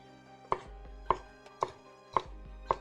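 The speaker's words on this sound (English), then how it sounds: "Pretty much going to chop up the zucchini, and we're going to cut this in half and then cut into slices" A knife chops through zucchini on a cutting board in five crisp, evenly spaced strikes, close and clear with quiet in between.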